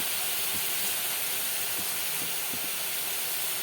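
Water poured into fried spice paste in a pan, with onion, turmeric and oil for Bengali katla fish curry, gives a steady, loud broadband hiss of steam and sizzle with a few soft low knocks, no talk.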